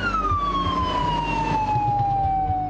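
An ambulance siren in Minas Gerais, Brazil, wails loud and close, its single tone sliding steadily downward in pitch over a low rumble of traffic.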